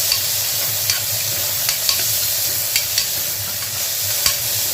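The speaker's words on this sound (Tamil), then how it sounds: "தக்காளியை சேர்த்து நல்லா வதக்கிட்டுக்கலாம்." Tomatoes sauté with onion and chili for a goat intestine fry, giving a constant hiss of frying with occasional light spatula taps and scrapes, close and without speech.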